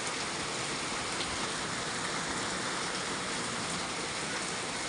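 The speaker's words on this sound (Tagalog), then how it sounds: "tingnan mo ang laki ng ulan dito guys." Dense, steady rain roars without a break, a broad hiss of heavy downpour that fills the whole scene.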